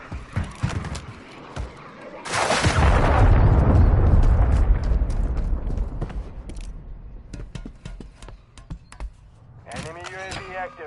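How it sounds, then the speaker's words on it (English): Cruise missile blast in Modern Warfare 3 multiplayer, a sudden heavy roaring explosion that rumbles and fades over several seconds, followed by scattered clicks, gunfire pops and a voice near the end. "Hostiles launched the cruise missile."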